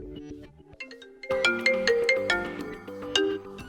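An iPad mini (2021) ringtone melody plays as a clear electronic tune, starting quietly and then jumping noticeably louder partway through as the ringtone volume is raised.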